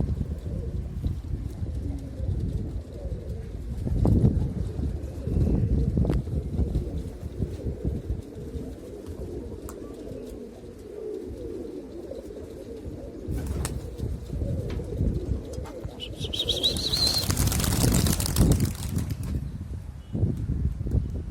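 Pigeons cooing softly outdoors over low wind noise, with a loud rush of flapping wings near the end as birds take off.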